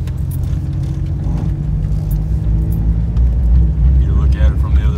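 A car drives through a burning grass field in the countryside, its steady low engine rumble loud and continuous throughout, with a voice talking over it.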